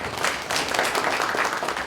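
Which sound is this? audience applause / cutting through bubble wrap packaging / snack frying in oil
audience applause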